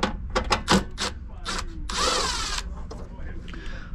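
A power drill backs out 1/4-inch screws to unmount an HVAC compressor contactor, several short close whirring bursts followed by one longer run, with handling clatter between them.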